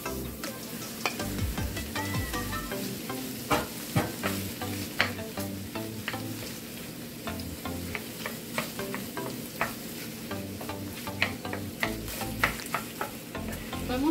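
Chicken sizzles in a pan with onion and garlic, a continuous frying hiss broken by frequent clicks and scrapes of stirring, close and without talk.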